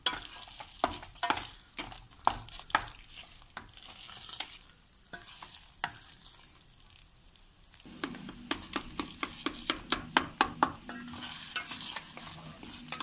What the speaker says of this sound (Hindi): और ये आपने अच्छी तरह मैश कर देना है